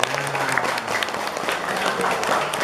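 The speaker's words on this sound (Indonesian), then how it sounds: "tepuk tangan dulu untuk OSIS MA Yapika" Students at a school gathering give sustained applause for their student council, a dense, steady wash of many hands clapping at once, fairly loud and unbroken, with faint crowd voices mixed in.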